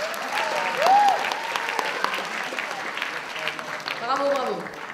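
A contest audience applauds a pair of female cosplayers at the 2017 Sunday cosplay competition, steady clapping filling the hall while a host's voice and faint music rise over it.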